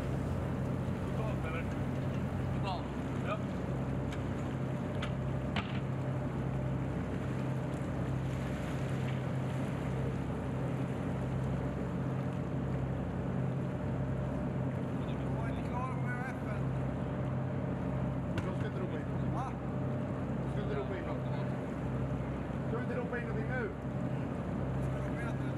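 Steady low drone of the water-jet engines of Swedish CB-90 combat boats running fast through water, with wind and spray noise throughout and occasional faint voices.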